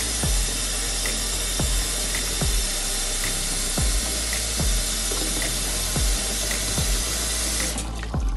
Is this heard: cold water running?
yes